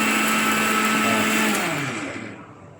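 A mixer grinder whirring loudly and steadily while grinding cumin, cardamom and garam masala, then winding down as the motor stops near the end.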